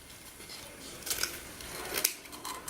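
Scissors cutting deco mesh off a roll produce a few crisp snips and crinkles of the synthetic mesh, close and fairly quiet, with two clearer cuts near the middle.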